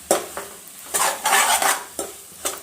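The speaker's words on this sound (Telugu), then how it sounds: "మొత్తం ఒకసారి కలుపుదాం." Spoon scraping and stirring through cabbage fry in a pan as coriander powder is mixed in, a few separate clinks and scrapes with short pauses between, close and moderately loud.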